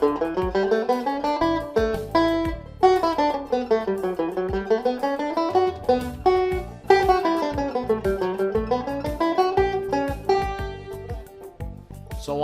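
A banjo picks out nine-note scale exercises in a steady, even rhythm, with bright plucked notes running up the neck and back down in repeated waves.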